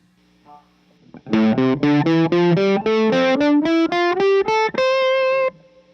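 A distorted electric guitar plays a steady run of single notes climbing up a pentatonic scale, each picked note distinct, ending on a held higher note.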